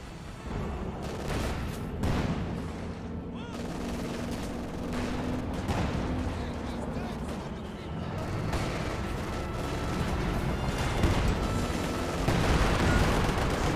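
Mortar barrages and gunfire in a Company of Heroes 2 battle, with repeated booming impacts and rattling shots over a dense, continuous wartime din, heard under a commentator's voice.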